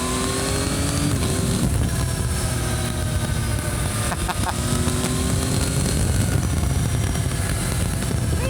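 Motorcycles riding the Isle of Man TT course, a steady loud engine drone with harmonic whine that rises and falls through gear changes, close and continuous for the whole stretch, with no talking.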